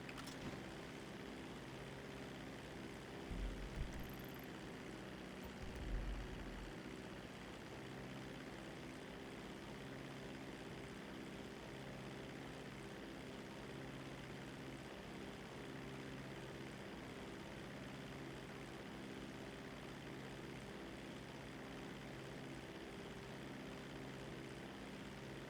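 Propeller airplane in flight in Grand Theft Auto Online, a continuous droning engine hum with layered tonal buzz and broadband wind noise, steady and close, with a couple of brief thumps early on and no talking.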